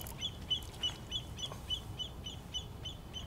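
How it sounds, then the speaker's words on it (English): A bird hooked or tangled in fishing line by the water gives a repeated series of short, high squawking calls at a steady rhythm, fairly close, over a low background rumble. "What kind of bird is that?"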